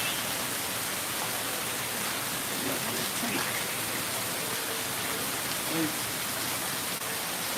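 Steady rain hisses evenly throughout, a constant soft wash of falling water with no clear break.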